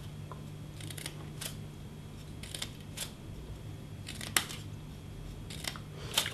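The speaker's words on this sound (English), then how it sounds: "you can either cut it very simply with your scissors up to that line" Scissors snip through paper to cut a fringe for handmade flowers, a series of quiet, crisp clicks spaced irregularly over a low steady hum, close by with no talking.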